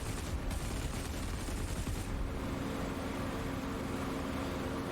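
Spitfire guns in the DCS flight simulator, a continuous dense rattle of rapid gunfire that stays steady and fairly quiet throughout, with a slight change in texture partway through.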